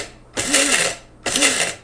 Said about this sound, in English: I'm just going to go ahead and put that in my grinder, and let's start pulsing this.